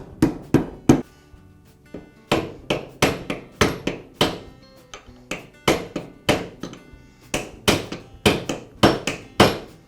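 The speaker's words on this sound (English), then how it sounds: "Then I'll use a rubber mallet to tap it in place." A rubber mallet taps a wobble shaft into new bearings on a Milwaukee reciprocating saw under repair, a string of about twenty sharp, close knocks in short irregular bursts with brief pauses between, and no voices.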